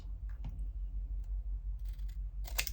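Scissors snip through a paper candy-wrapper tag for a Skittles craft, a few faint close clicks and a crisp cut near the end over a low steady hum.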